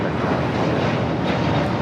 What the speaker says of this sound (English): This takeoff is Delta Airlines 749 taking off to Tampa, Florida on the A321neo.